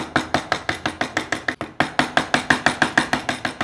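Light, rapid mallet taps on a chisel carving wood, about five to six crisp knocks per second in an even rhythm with a brief pause midway, close and clear.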